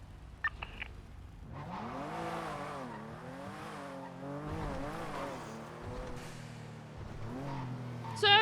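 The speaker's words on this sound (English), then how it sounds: "I hear a purple car. It just drove past me." A car engine in the game Grand Theft Auto V (NoPixel roleplay server) revs and drones steadily as a vehicle passes close by, pitch rising and falling, with a brief sharp squeal at the end.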